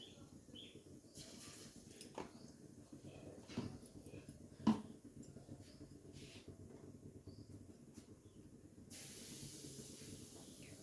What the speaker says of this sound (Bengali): চিংড়ি মাছটাকে ভেজে নেব